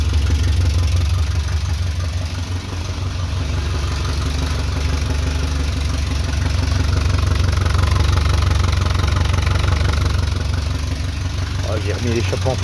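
A Talbot Horizon 1.1 engine, unrun for at least 25 years, idles steadily and close up with a low, uneven rumble, and a voice briefly speaks near the end.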